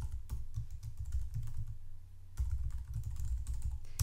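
Steady typing on a computer keyboard while entering sign-up details such as a username and email, with quick clustered keystrokes, a brief pause near the middle, then more rapid typing, close and clear with no talk.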